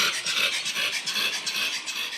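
An unwell dog breathes in rapid, rhythmic, raspy pants, each harsh breath coming close and loud in a steady pulse as the recording is played back, with no talking.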